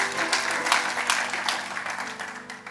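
Church congregation clapping in a dense, steady wash of applause at a Christian community service, fairly loud and sustained with faint voices mixed in.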